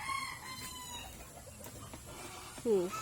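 Chickens in a rural backyard in Bicol province, with a short rising cluck or crow near the end and faint bird calls earlier, moderately close against quiet outdoor background.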